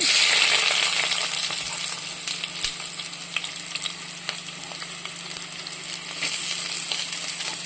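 Onion hits hot oil with popped mustard seeds for a Malayalam okra tamarind curry, giving a loud, continuous sizzle and crackle with occasional stirring scrapes, no voices.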